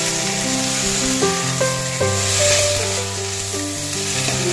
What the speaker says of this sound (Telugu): చిక్కుడుకాయ ఫ్రై చేసుకోండి